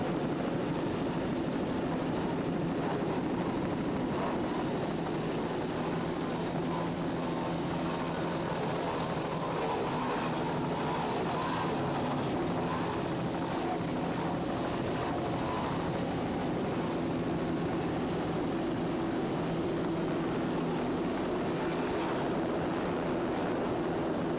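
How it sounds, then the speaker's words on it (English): A camera helicopter flies over the 1993 Islamorada offshore powerboat race, giving a loud, unbroken rotor and engine drone that fills the whole stretch without a break. "you see a little piece of our helicopter"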